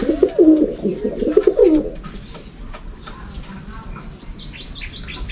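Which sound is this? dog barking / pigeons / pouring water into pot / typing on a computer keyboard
pigeons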